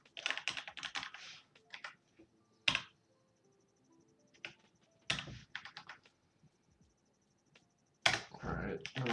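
Typing on a computer keyboard while working through a Python exercise, with bursts of quick key clicks separated by pauses, close and clear, and a voice talking between the bursts.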